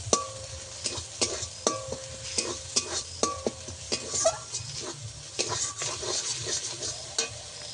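Spice paste with ground coriander being sautéed in a pan for a village-style fish curry, a low steady sizzle broken by repeated scraping clinks of a spoon stirring against the pan, close and even throughout.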